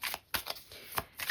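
Tarot cards are shuffled and drawn from a deck in quick, soft riffling bursts, several brief papery flicks close to the listener.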